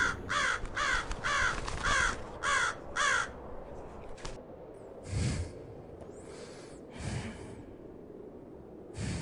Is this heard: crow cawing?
yes